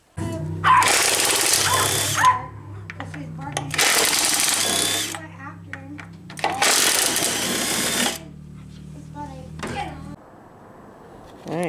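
A cheap cordless 1/2-inch impact wrench that takes Makita batteries hammers away in three long, loud bursts separated by short pauses, with people talking in between.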